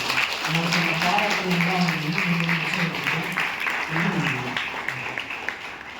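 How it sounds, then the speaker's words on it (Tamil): Applause at a Tamil literary event for young writers, a continuous crowd clapping that holds steady for several seconds while a voice speaks over it. "மனமார்ந்த ஜோர கைத்தட்டல் கொடுக்கிறார்"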